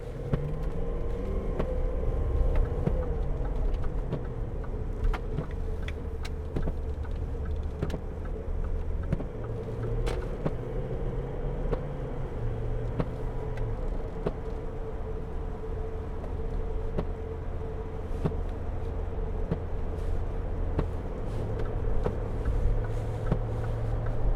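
A 2011 Range Rover TDV8 Vogue SE moves off on rough Preston tarmac, its diesel V8 giving a steady low rumble heard from inside the cabin, with faint road noise and slight shifts in engine pitch throughout.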